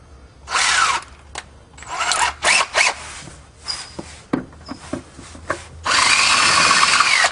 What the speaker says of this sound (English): put on our 3/8 drill bit to enlarge the hole